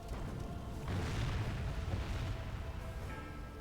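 A flaming stone ball from a catapult slams home in a Total War siege battle, a loud rumbling boom that swells and holds for a couple of seconds before fading.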